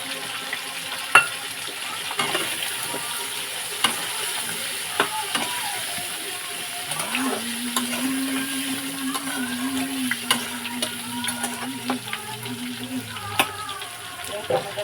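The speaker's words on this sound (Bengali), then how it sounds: "আলুটা একটু হালকা নেড়ে চেড়ে মশলাটা দিয়ে একেবারে কষাবো" Potatoes frying with spice paste in a pan give a steady, close sizzle with occasional stirring clicks and scrapes, and a faint background hum runs through the middle.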